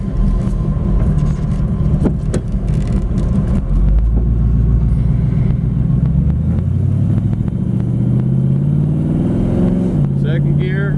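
A 1933 Ford three-window coupe street rod drives down a road, its engine a loud, continuous low rumble that deepens and rises as it pulls away, with someone talking over it.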